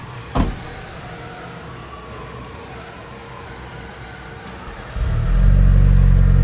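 A car with keyless entry and remote start fires up on its own: after a quiet stretch with a brief click near the start, the engine catches and settles into a loud, steady low idle close by.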